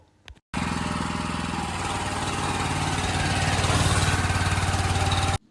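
A high pressure washer running with the trigger pulled during a leak check of a hose reel, a loud steady engine drone with dense rough hiss that starts abruptly and holds for about five seconds before cutting off.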